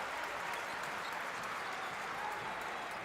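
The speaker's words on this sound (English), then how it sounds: "Crowd appreciating it." Spectators at a FIBA Women's EuroBasket qualifier between Hungary and Finland applaud in a dense, steady wash of clapping that fills the arena throughout, with a commentator's voice faintly under it.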